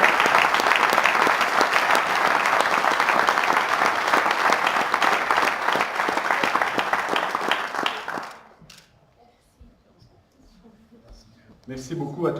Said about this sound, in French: je pense qu'on peut encore une fois applaudir